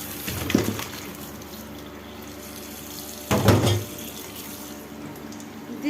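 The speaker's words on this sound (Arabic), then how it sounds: "افتحي اول حاجه الميه الساقعه" Cold water runs steadily from a kitchen tap into a sink as okra is rinsed, a continuous close hiss with two louder splashing surges where the stream hits the pods.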